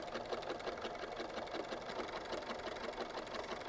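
A sewing machine runs steadily and close, its needle chattering in a fast continuous whir while stitching a seam on fabric for a composition notebook cover, with no talk.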